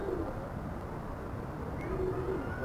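Soft, low cooing of pigeons repeats a few times over a steady outdoor rumble, fairly close but muted.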